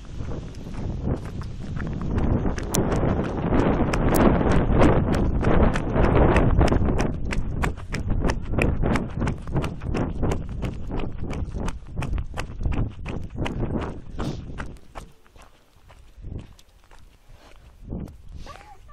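Hooves clip-clop steadily on a hard surface as horses walk past close by, over strong wind rumble that fades toward the end.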